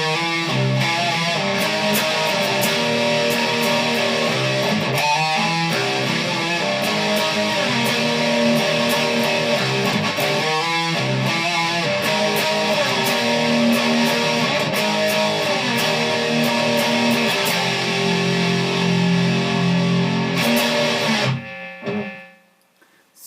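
Distorted electric guitar playing the chorus of a song, a loud, steady run of driven chords and riffs lasting about twenty seconds before cutting off abruptly, with no talk.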